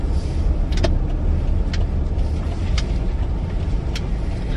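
A car speeds through a parking lot and passes close and loud with a broad rushing roar, alongside a few sharp clicks and knocks from inside the filming car.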